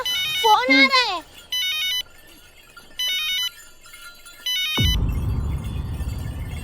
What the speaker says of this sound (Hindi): माँ, फोन आ रहा है।